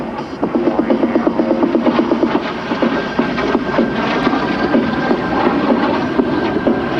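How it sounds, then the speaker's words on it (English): An L-39 jet at full power during an air show makes a loud, steady roar that swells and rumbles with a rough, pulsing texture, carrying continuously for several seconds without talk. "He has got the power pushed up on this beautiful L-39."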